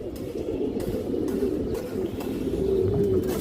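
A silver female pigeon coos in a low, repeated warble, close and steady, with no talking over it.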